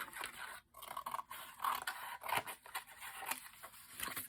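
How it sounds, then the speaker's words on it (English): Scissors trim a junk journal board edge in a run of quiet close snips and scratchy cuts, faint and irregular, with no one talking. "So now I'm going to trim this so that it's more of a straight line."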